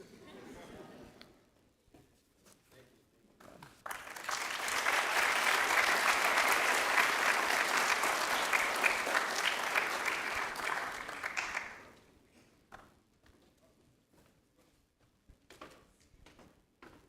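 Audience applause at the UWI Math Fair 2025 for Professor Coburn and Dr. Rao Gunakala, a dense, steady burst of clapping lasting about eight seconds, rising abruptly and cutting off, with quieter talk before and after.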